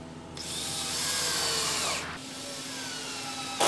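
A power screwdriver drives screws through wooden deck boards into the joists below, fixed with hidden JuAn clips; a steady motor whir runs close and continuous for about two seconds, drops to a quieter hum, then revs again sharply at the end.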